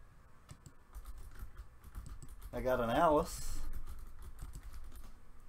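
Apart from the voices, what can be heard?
typing on a computer keyboard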